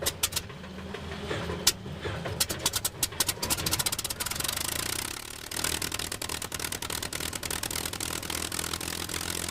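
A North American P-51B Mustang's Rolls-Royce Merlin 61 piston engine coughs and sputters through uneven firing bursts, then settles into a steady, rough throbbing idle, close and fairly loud with no talk.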